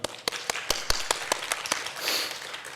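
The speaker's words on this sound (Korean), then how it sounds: "우리 박수를 한번 올리도록 하겠습니다" Sharp, spaced claps ring out in a roomy church during a worship service, quickly spreading into a short burst of scattered applause.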